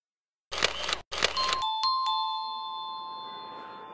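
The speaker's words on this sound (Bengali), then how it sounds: "কলিং বেল করছি মনে হয়" A doorbell rings indoors with a two-tone ding-dong chime, repeated in quick bursts, then a long ringing tone that slowly fades, loud and close with no talking.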